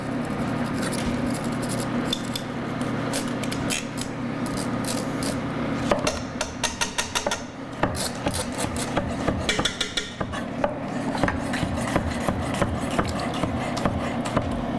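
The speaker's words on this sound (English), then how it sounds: "I think I've reached my limit here with the ginger. I'm going to try to scrape the rest of this off." A knife or spoon scrapes the last grated ginger off a metal kitchen grater, making steady rasping strokes at close range that turn choppier and more rhythmic partway through, with no voices.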